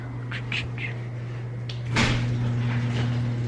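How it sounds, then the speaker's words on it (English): A door in a snowy, below-zero Illinois home is opened, giving a brief clunk and a rush of airy noise that lingers over a steady low hum, with a few faint chirpy sounds before it. "I'm gonna open the door for her."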